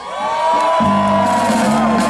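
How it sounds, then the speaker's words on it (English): Crowd at a cannabis parade in New York cheering, whooping and screaming, a loud continuous roar of many voices close by, alone. "I like you people that are screaming."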